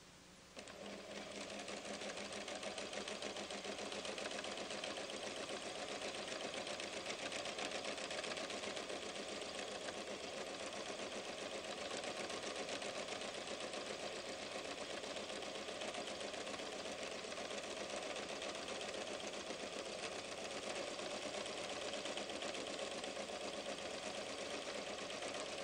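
A Pfaff creative 1475 CD sewing machine runs steadily in free-motion straight stitch with the feed dogs lowered and a darning presser foot, giving a continuous, even mechanical whir for the whole stretch at low level with no talk.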